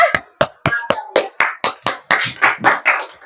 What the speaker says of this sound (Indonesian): Beri tepuk tangan dulu buat temannya.